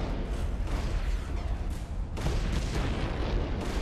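Heavy explosion rumble in the Prototype 2 video game, grenade launcher fire, a dense, loud broadband roar that swells and sustains throughout with booming low-end bursts, no voices.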